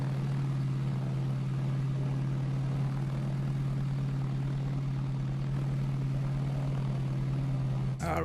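Steady droning engine of an aircraft taxiing into position for takeoff in Arma 3, a constant close hum holding at one pitch throughout, briefly interrupted near the end.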